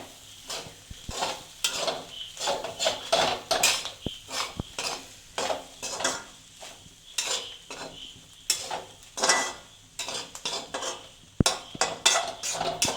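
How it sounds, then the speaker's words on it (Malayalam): Clam meat frying in a pan is stirred with a utensil, producing repeated close scraping and clinking strokes in uneven bursts over a soft ongoing sizzle. "നമ്മളിതൊന്ന് ഇളക്കി കൊടുക്കുവാണേ"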